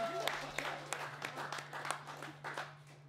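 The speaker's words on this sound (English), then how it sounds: "A big round of applause again, and to Scott Nicol as well for his support" A small audience applauds performers at a live show, scattered, fairly thin clapping with distinct individual claps, fairly faint, over a steady electrical hum.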